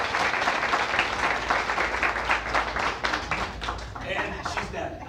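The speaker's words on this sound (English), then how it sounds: "But if everyone could just give her a round of applause for sharing." A small audience gives a round of applause, a dense patter of clapping close by that thins out and fades toward the end, with a voice speaking over it.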